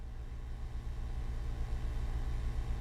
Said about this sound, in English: You turn the keys and hear the engine roar.